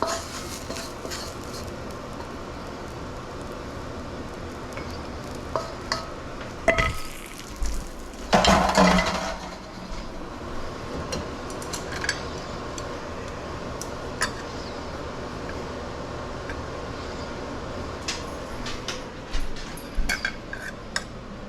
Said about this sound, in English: And onto the plate we go. Let's get those little crispy noodle bits.